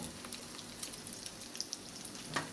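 Hot oil bubbles and spits in a pan while cooking a minced-pork omelette, a steady close sizzle with scattered sharp pops and crackles, no voices.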